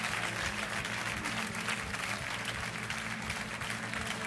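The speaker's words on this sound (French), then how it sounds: "Arrêtez d'applaudir par contre 2 minutes parce que je frise" Studio audience on a French TV game show applauding steadily and loudly throughout, a dense continuous clatter of clapping hands with no talk over it.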